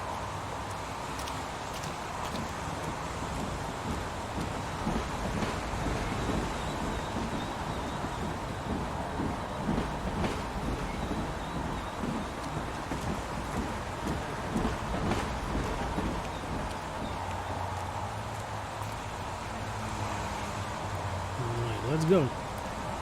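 Steady rain hisses continuously over a low rumbling backdrop, holding fairly even for the whole stretch with a few louder gusts.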